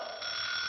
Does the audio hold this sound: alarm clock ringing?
yes